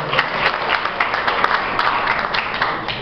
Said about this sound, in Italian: l'applauso a Ricci ci sta